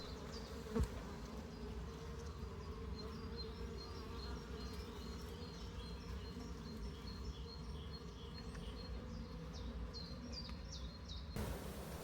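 Honey bees hum steadily around an open beehive during a spring inspection before the rapeseed flow, a dense, continuous buzz filling the scene with a few bird chirps in the background and a brief knock near the start.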